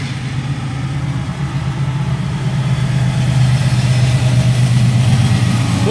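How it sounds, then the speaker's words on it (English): CSX freight train with four locomotives on the point passing through Versailles Borough, Pennsylvania: a heavy, steady diesel engine drone that stays loud and close for the whole stretch with no break. "Four engines on the point."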